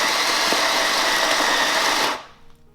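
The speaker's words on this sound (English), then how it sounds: "Grind some of the coffee." An electric grinder at a coffee machine grinding coffee beans, a loud, steady high-pitched whir that runs continuously and then cuts off abruptly, leaving quiet room noise.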